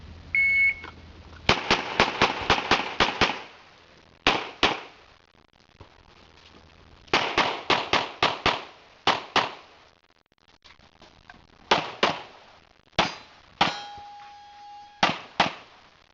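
Pistol shots ring out at an outdoor shooting match, sharp cracks fired in quick bursts of four to six with short pauses between groups, some with metallic clangs from struck steel targets.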